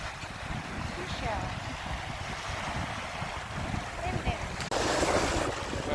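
Wind buffeting the microphone at a beach, with surf rolling behind it; a steady low roar runs throughout and swells louder near the end.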